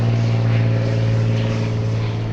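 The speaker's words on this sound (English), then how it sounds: "I wonder how loud that airplane is to you guys." A propeller airplane passes overhead above a garage where a VW Käfer panel van is being welded. It gives a loud, steady droning engine hum that fills the whole stretch without a break.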